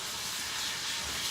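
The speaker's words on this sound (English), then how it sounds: "so it's still sizzling" Lamb chops sizzle in a hot pan as a steady, close, continuous frying hiss with no talk over it.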